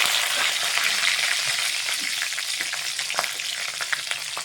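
Black cumin seeds and green chillies sizzle in hot oil, a bright continuous crackle with small pops and light stirring, close and steady without talk.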